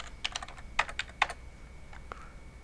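Drawing commands typed on a computer keyboard for a pipe support isometric drawing: a quick run of close key taps and clicks in uneven bursts, followed by a couple of softer taps.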